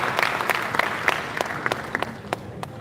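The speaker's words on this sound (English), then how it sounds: "Please, a big round of applause for the" A panel-event audience at a law and regulations session claps, thin scattered individual claps at a moderate distance, tapering off.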